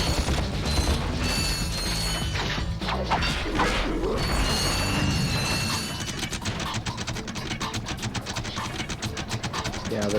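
A wrench turning giant bolts in the Ratchet and Clank game, a rapid clicking ratchet and grinding mechanical churn, loud and close, with game sounds and talk around it.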